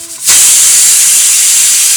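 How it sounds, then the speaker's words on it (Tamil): A pressure cooker of white rice bursts into a loud, sustained whistling hiss of escaping steam, starting abruptly and holding steady up close in a home kitchen. "வெள்ளை சாப்பாடு விசில் விட ஆரம்பிச்சிருச்சுங்க."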